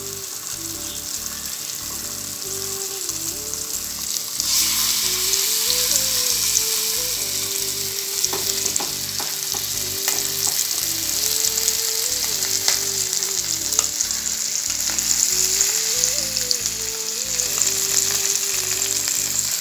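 Fish frying on a tawa with leftover masala, a steady close sizzle and crackle running throughout, rising a little louder partway through, with no talking over it.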